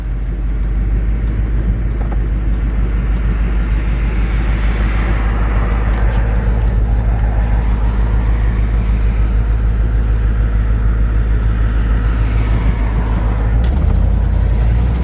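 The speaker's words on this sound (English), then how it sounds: "keep it in first gear and turn the lock up on and hold the button through the shifts" A vehicle with an E4OD transmission drives with lockup engaged while shifting through its gears, giving a loud, steady drone of engine and road noise throughout with no clear breaks.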